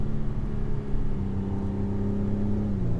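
A 2021 Acura TLX A-Spec SH-AWD's turbocharged engine pulls steadily under acceleration, a loud, continuous low drone with rising tones heard from inside the cabin, no talking.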